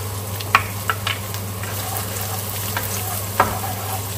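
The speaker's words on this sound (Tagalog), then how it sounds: "So, lagay natin yung ating sibuyas. Lagay ko na rin yung ating bawang." Onion and garlic sautéing in a pan, a steady close sizzle with a low steady hum beneath and a few sharp utensil taps scattered through.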